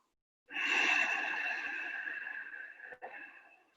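A long, deep breath during a vinyasa yoga flow, drawn through the nose or mouth with a breathy rush that begins abruptly after a moment of silence, fades slowly, then briefly catches and continues.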